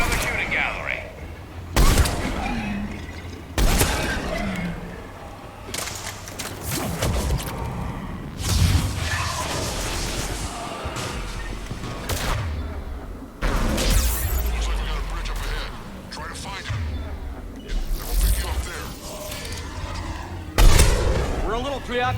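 Gunfire and heavy explosions from the video game Mass Effect 3 come in repeated loud bursts of shots and booms, with voices talking between and over the combat.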